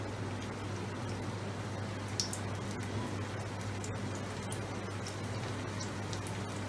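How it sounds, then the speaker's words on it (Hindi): Boneless chicken pieces shallow-fry in hot oil in a pan over medium heat, giving a dense, continuous sizzle and crackle with scattered pops, steady and close. "इसमें अब हमने अपने चिकन के पीसेस जो हैं इसको हमने फ्राई करना है।"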